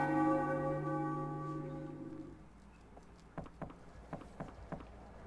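Bell in Final Fantasy IX: a deep bell tone rings out and slowly decays over a couple of seconds, followed by a short run of soft, light rhythmic tapping.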